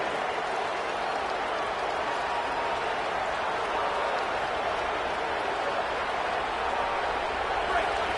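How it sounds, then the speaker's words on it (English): A home crowd roars at a college football game, a steady, dense wash of cheering and applause that holds without letup. "this home crowd is fired up and ready to make a difference today"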